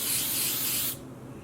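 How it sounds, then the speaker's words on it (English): A color mist spray bottle hisses a fine mist of dye onto sock blank yarn, a close, steady spray lasting about a second before cutting off to quiet. "We know that these color mist sprays give us a really light application of color"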